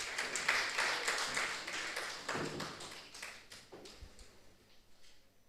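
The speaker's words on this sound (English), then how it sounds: "please clap for him." Audience clapping for a professor of microbiology and infectious disease at a university research symposium, a scattered, moderately loud burst of claps that thins out and fades over several seconds.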